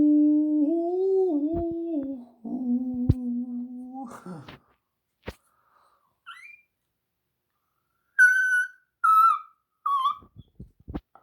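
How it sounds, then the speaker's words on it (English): A person whistles a tune up close, starting with low wavering tones, then a few short, higher chirping notes later, with quiet gaps and soft clicks between. "trying to do the whistle from what song that?"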